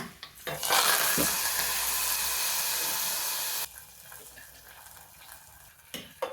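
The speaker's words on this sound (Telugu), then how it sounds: "తాలింపుని పులుసులో కలిపేస్తున్నాను" A hot tempering with curry leaves poured into okra stew bursts into a loud, bright sizzle that holds for a few seconds, then drops away abruptly, followed by quieter clinks and stirring.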